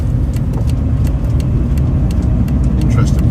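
A Volkswagen T4 diesel van drives along the road, its steady engine and road rumble constant and near throughout the clip.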